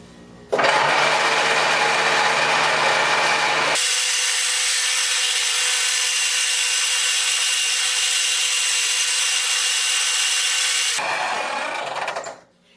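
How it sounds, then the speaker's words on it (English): A 4-inch jointer smooths a wood board: the motor spins up, then a loud, steady high whine with cutting noise runs for about ten seconds before winding down, close and alone. "I only have a 4-inch jointer"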